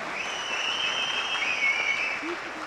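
An audience at a film audio launch event applauds in a steady, moderate wash of claps, with high whistle-like tones running above it.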